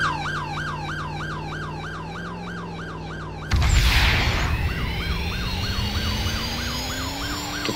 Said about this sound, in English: Oh wait, I hear sirens.